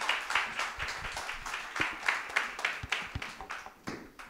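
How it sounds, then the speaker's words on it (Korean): A church congregation at a Sunday service claps to welcome a missionary to the front, a lively, rhythmic round of many hands in a hall that stays steady and tapers slightly toward the end, with no talk over it. "힘차게 박수하고 말씀 듣도록 하겠습니다"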